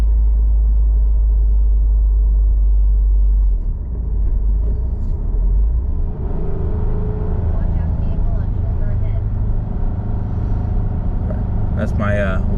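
A 2022 Subaru WRX pulls hard through a gear on the highway, a loud, steady engine and road rumble heard from inside the car as it accelerates.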